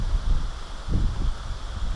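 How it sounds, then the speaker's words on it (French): Gusty wind buffets the microphone outdoors at a carp fishing spot, a steady low rumble swelling in bursts without speech. "Il y a vraiment du vent."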